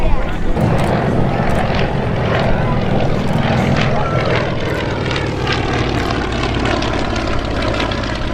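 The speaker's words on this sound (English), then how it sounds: "this is North America P-51 Mustang. It was a European-based fighter plane used for basically a long-range bomber escort" A North American P-51 Mustang, the WWII long-range bomber-escort fighter, roars with a loud, steady propeller-engine drone at a warbird airshow, continuous throughout while a voice talks over it.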